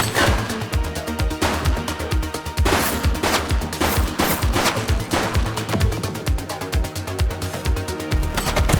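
Dense automatic gunfire rattles in the police video game The Precinct, rapid loud bursts of shots in a continuous fusillade with sharp repeated cracks throughout, no pause.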